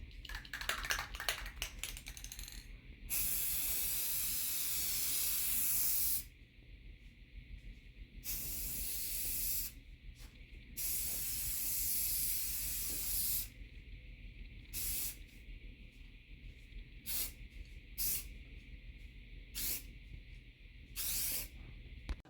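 Clear finish is sprayed in coats onto a Stratocaster-style guitar body: repeated hissing aerosol bursts of several seconds each, separated by pauses and light handling noises, close and fairly loud.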